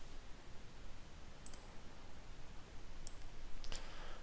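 Two crisp, faint computer mouse clicks, spaced about a second and a half apart, sit over a quiet hiss with nothing else going on.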